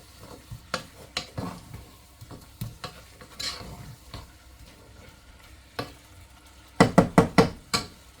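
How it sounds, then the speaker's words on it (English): Greens tossed through a soy and butter mixture in a hot pan give scraping stirs and soft sizzling, with a quick run of sharp utensil knocks against the pan near the end. "And just toss them through the soy and butter mix."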